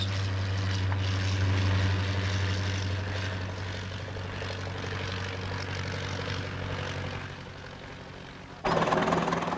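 A propeller airplane engine drones steadily with a low rumble, growing louder and harsher near the end as the aircraft passes close.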